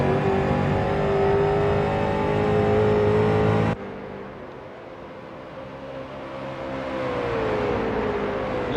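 Race car on the Summit Point circuit in an amateur racing series, its engine revving loud and high before dropping to a more distant, lower drone that builds again as the car passes.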